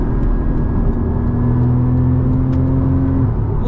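Porsche 981 Cayman GTS engine pulling at full throttle on a road drive, a steady close droning roar with a sustained low hum and no talking over it.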